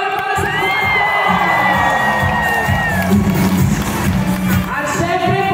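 Loud crowd cheering and shouting with whoops at a Quad Comm groundbreaking ceremony for Bauan Tech High School, a dense sustained roar of voices with children's shouts across the whole stretch.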